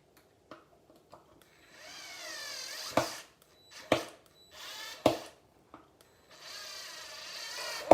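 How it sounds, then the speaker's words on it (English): A power drill drives screws while a Powerhouse Platinum unit is assembled: several close whirring bursts of rising whine, separated by sharp clicks and short pauses, with no talk over them. "You can screw these in with a screwdriver or with the drill that we have here."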